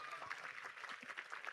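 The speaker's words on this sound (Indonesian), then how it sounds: "tepuk tangan" Audience applause at a university public lecture for new students, a steady even patter of clapping from a hall crowd with no break across its length.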